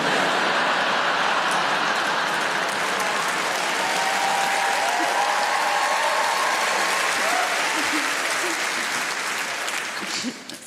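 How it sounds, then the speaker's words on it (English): A comedy club audience at a live stand-up show at the Apollo gives sustained, loud applause mixed with crowd noise, filling the whole stretch without a break. "It's weird to applause that"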